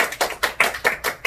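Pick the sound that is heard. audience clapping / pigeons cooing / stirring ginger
audience clapping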